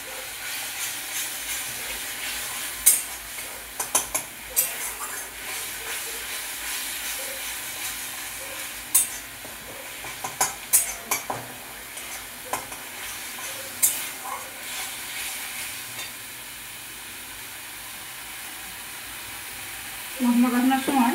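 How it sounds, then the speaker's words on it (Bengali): Spice paste being stirred and fried on low flame for a potol curry, a soft continuous sizzle punctuated by repeated spatula scrapes and clinks against the pan, with a brief voice near the end. "মশলাটা কষাবো। লো ফ্লেমেই থাকবে, মশলাটা কষানো হবে।"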